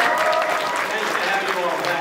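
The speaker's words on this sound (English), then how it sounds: "I think that's worthy of a round of applause right there." Audience applause at a school winter concert for fourth and fifth graders, a steady dense clapping from a crowd filling the whole stretch, with some chatter mixed in.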